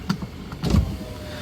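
Power windows on a used car run inside the cabin, a short whirring motor hum with a soft thunk as the glass stops.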